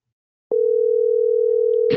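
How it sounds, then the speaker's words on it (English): A steady, loud telephone dial tone begins abruptly after a brief silence and holds unbroken, heard alone with no voices during an outgoing call. "Answer the phone, sir. You know I'm calling you."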